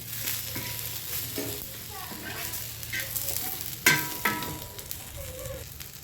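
Spices and tomato dry-roasting in a pan until red, a close sizzle with irregular scraping stirs and a few sharper clatters of the spoon against the pan, no one speaking.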